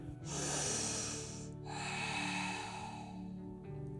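A deep breath during an evening yoga session, a long drawn breath sound close to the mic, loud and steady for several seconds and then fading, with soft background music underneath.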